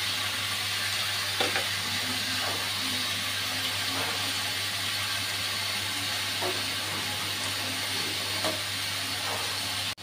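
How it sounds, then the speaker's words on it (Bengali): Milk for Bengali payesh boils in a pot with a steady, close bubbling hiss over a constant low hum, broken by occasional soft pops. "দুধটা ফুটে উঠেছে।"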